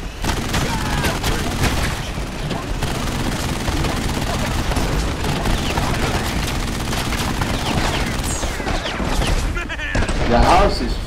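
Dense, loud gunfire from enemies in the jungle mission of the co-op video game Narco Terror, with rapid machine-gun bursts and booms running continuously under excited player chatter.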